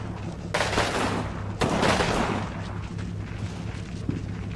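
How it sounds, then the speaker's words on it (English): Vickers machine guns fire in the WWII game Combat Mission, heard as loud rattling bursts and booming reports against a steady battle rumble, with no talking. "My Vickers are shooting at this corner because I think there's a machine gun there"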